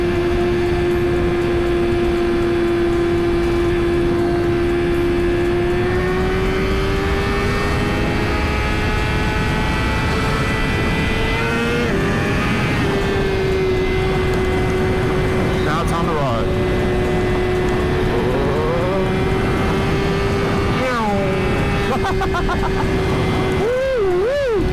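A Suzuki GSX-R1000 superbike riding on a highway from the rider's seat, its engine holding a steady loud drone with some rising shifts, buried under heavy wind roar.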